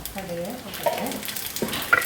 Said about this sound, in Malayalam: ഇവിടെ വെളിച്ചെണ്ണ ചൂടാവുകയും ചെയ്തു. അതിലേക്ക് കടുകിടാം.